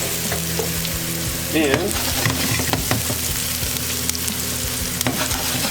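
Shallot sizzling steadily in a hot pan after salt and fresh cracked pepper are added, a continuous close frying hiss with a few utensil clinks and a brief spoken word over it.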